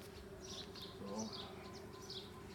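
Honey bees buzz steadily during a routine hive inspection of a weak colony with an old queen, a dense close hum with faint bird chirps above and a brief voice in the background.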